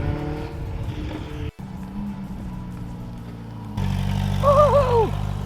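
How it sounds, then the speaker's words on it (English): A Ferrari F8 with a full Boden exhaust drones from inside the cabin, then the engine blips and rises with a sharp, warbling downshift near the end. The car is loud and close. "Do you hear the downshift?"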